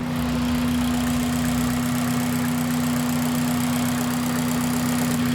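A Honda Civic engine idles with a steady, droning hum and a faint uneven knock, heard up close and continuously with no voices.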